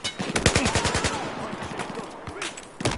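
Rapid automatic gunfire in the Battlefield 4 Shanghai map, a dense burst of bangs early on, then scattered shots close by, with a voice faintly underneath.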